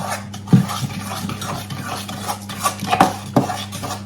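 Fudge brownie ingredients being mixed together in a bowl with a spoon, giving soft scraping and stirring sounds with a few sharper knocks against the bowl, close and steady over a low background hum.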